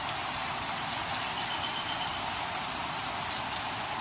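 Steady rain falls outdoors as a constant, even hiss with no breaks, moderately loud and uninterrupted by any voice.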